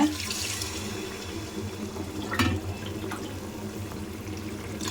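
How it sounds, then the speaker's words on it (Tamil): Water poured into rice in a pot for cooking, a steady splashing stream running for several seconds at close range, with a brief louder gush midway and no talking. "இப்போ நான் ஆறு மகானி தண்ணி ஊற்றுறேன்"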